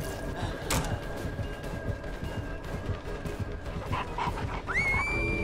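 The Houndmaster's dog in the video game Dead by Daylight, heard amid busy in-game noise with a sharp impact, brief yelps, and a rising whine near the end.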